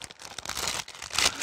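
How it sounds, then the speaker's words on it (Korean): A large plastic bag from a US military C-ration MRE is torn open close up, giving steady loud crinkling and ripping with brief sharp crackles. "그리고 이렇게 뜯을 수 있게 돼 있어야지."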